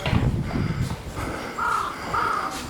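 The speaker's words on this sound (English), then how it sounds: "The crows" Crows caw in short repeated calls in the grounds of an old Shinto shrine in Miyagi, Japan, set against a steady outdoor ambience with some low rumble.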